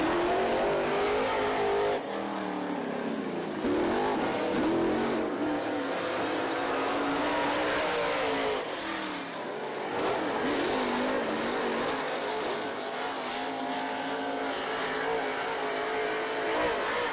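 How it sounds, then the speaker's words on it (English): Race cars roar around the Dixieland Speedway dirt track in a loud, continuous engine drone, rising and falling as they accelerate and pass, with no break throughout. "Dustin Mitchell on the racetrack in the yellow number 8"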